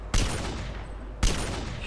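Two heavy sniper rifle shots ring out in MTA: DayZ, about a second apart, each a sharp loud crack trailing into a long booming echo.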